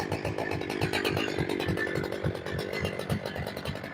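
A big chainsaw engine runs steadily and loudly nearby, its buzzing motor pulsing in a rapid, rough rhythm throughout.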